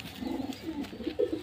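Low, rolling coos from domestic pigeons kept at a home loft, repeating in short close phrases with one louder burst near the end and no talking.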